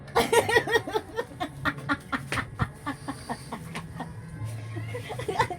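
Busy clucking and squawking from poultry, short repeated calls close by with a few louder bursts, no talking.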